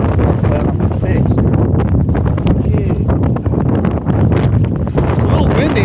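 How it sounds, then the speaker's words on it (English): Strong wind buffets the microphone outdoors beside a lake, a loud continuous roaring rumble with gusty rustling throughout, dominating the whole stretch. "It's a little windy too."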